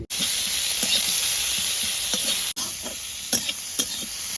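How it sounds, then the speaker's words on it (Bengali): Onions frying in oil in an outdoor picnic cooking pot next to khichuri and duck meat give a steady, close sizzle, with a few brief stirring scrapes and clicks on top and no talk. "ওদিকে পেঁয়াজ ভাজা চলছে"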